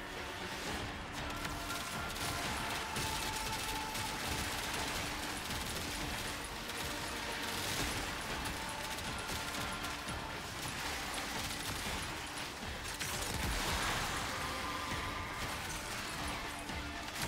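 Warframe weapon gunfire from the Cortege, mixing alternate and primary fire, comes as a dense, continuous barrage of shots and crashes through most of the span, loud and busy with game effects layered over it.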